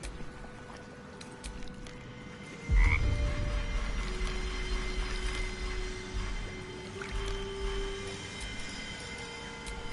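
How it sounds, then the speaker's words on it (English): A frog in the video game Baldur's Gate 3 gives a single loud, low croak in a swampy scene, followed by a rumbling ambient bed with faint distant tones. "The frog croaks a friendly eep."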